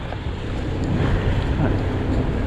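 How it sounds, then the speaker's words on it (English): Steady roar of wind and rushing water aboard a sailboat in about 10 to 12 knots of beam wind with white caps and a loose genoa flapping, loud and continuous with no talk. "we have a bit of a flappy genoa, a few white caps"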